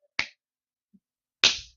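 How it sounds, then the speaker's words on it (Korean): A preacher claps his hands for demonstration, two separate sharp claps about a second apart in an otherwise quiet room, close and distinct. "박수 치려면 신나게 이렇게 치면 안 되는데"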